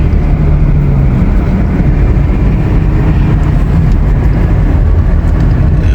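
A Ford Mustang being driven, heard as a loud, steady rumble of engine and road noise filling the cabin without a break, with no distinct gear change standing out.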